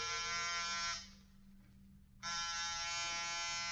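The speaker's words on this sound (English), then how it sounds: "Get off the buzzer." A door buzzer drones loud and steady in a radio crime drama, cuts out briefly for about a second, then resumes with the same harsh, even tone.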